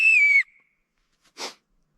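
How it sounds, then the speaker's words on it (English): An emergency help-me whistle found near a muddy waterfall trail gives one shrill, steady blast of about half a second, followed after a pause by a short breathy puff, heard close with no one talking. "It's a help me whistle."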